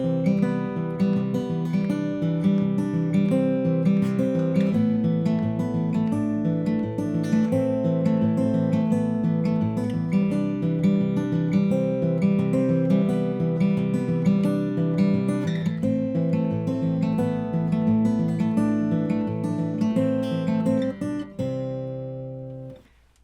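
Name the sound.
fingerstyle guitar playing a song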